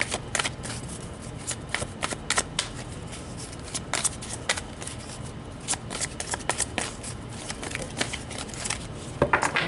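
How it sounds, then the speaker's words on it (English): Tarot cards are shuffled by hand in a steady run of crisp riffling and slapping bursts, close and fairly quiet, with no talking. "I feel like I need to shuffle."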